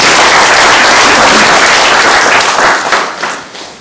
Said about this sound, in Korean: 우리 이기성 회장님 박수 한번 보내주시고